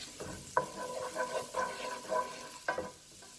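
Finely chopped onion sautés in a pan, giving a moderate sizzle broken by several scraping stirs in a loose rhythm, close up and without talk.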